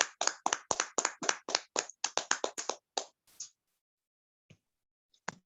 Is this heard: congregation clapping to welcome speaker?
yes